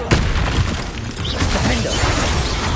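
Bombarda blasting spell going off in Hogwarts Legacy: a sudden crashing explosion at the start, followed by rumbling debris and clattering impacts, loud and close.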